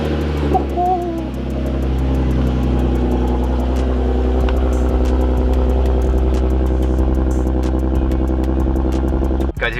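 An Infiniti G35/G37 sedan engine runs steadily at idle after a cold start, with a deep, throaty exhaust rumble that stays loud and close for the whole stretch.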